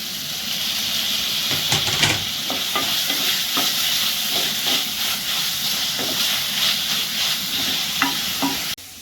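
Onion and tomato fry in oil for crab masala, with a steady close sizzle and hiss broken by repeated stirring scrapes and clinks throughout.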